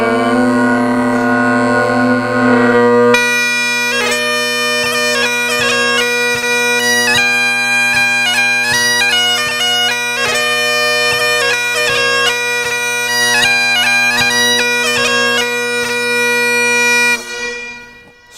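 Scottish bagpipes with steady drones and melodic chanter playing together, a loud continuous drone bed under a bright ornamented tune that starts after a brief lead-in and fades at the end.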